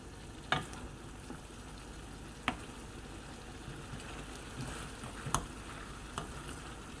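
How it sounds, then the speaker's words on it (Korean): Soft, steady sizzling and bubbling of soy-braised lotus root with chili peppers cooking down in a pan, with occasional small pops and ticks, no voices. "지금부터 더 졸여 보겠습니다"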